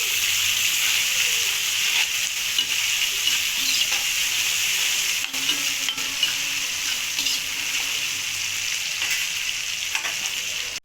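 Tomatoes with ginger and garlic fry in a pan, giving a constant loud hissing sizzle with occasional light stirring clicks.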